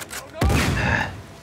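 A grenade explodes in the Uncharted 4 video game, a sudden loud boom at close range that rolls into a lingering rumble and debris noise fading over about a second.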